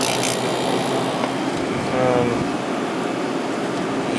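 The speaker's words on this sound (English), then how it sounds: "See if the compressor starts." Fedders 10,000 BTU window air conditioner running with a steady, close whooshing hum and faint rattle that hold at an even level throughout.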